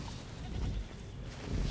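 Goats bleat in Jurassic World Evolution, a couple of wavering, nasal cries heard fairly close over a steady game ambience.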